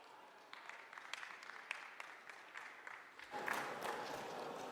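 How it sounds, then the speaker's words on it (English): An audience at a cybersecurity briefing applauds a speaker with steady, moderately distant clapping that swells toward the end, with no speech over it. "Je vous demande d'applaudir, s'il vous plaît, mesdames et messieurs, Preston Miller."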